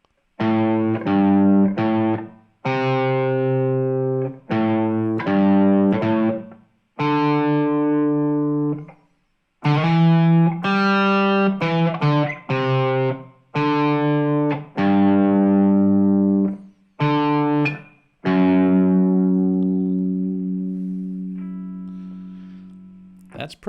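Electric guitar with distortion and effects plays a classic rock riff, a series of loud, sustained chords and single notes separated by short gaps, ending on a long ringing chord that fades away; no talk.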